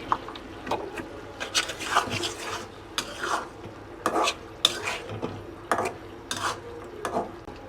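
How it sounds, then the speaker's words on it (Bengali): Snakehead fish sautéing with spices and garlic in a pan, stirred with repeated scraping and clattering strokes of a utensil over a soft sizzle, close and with no talk. "আমি সুন্দর করে কষালাম মাছ"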